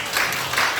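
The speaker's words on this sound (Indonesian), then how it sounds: "Tepuk tangan buat Tuhan Yesus." Brief burst of congregational clapping in a church service, a room full of hands applauding together in a short, even wash of sound.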